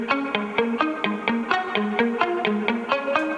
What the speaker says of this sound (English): So without saturation, this pluck instrument sounds like this